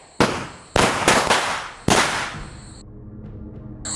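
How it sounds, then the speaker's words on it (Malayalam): Firecrackers set off in the middle of a road during Diwali: three sharp, loud, close bangs in quick succession, each trailing into a crackling rumble that fades to a quieter background. "നടു റോഡിലാണ് പടക്കം പൊട്ടിക്കുന്നത്."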